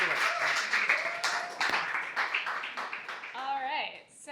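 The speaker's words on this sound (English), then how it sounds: "So please, a round of applause for Rachel." Audience applause for a presenter at a talk or event, a steady wash of clapping from a crowd lasting several seconds, with a voice speaking over it near the end.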